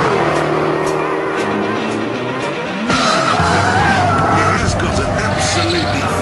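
Jaguar XKR sliding and skidding, tyres squealing over a deep, rough engine roar that surges as the car slithers about, with someone talking over it.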